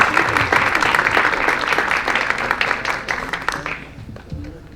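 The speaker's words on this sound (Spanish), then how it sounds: "vamos a darle un fuerte aplauso" An audience claps loudly and continuously, a dense wash of applause that thins and fades out over the last second.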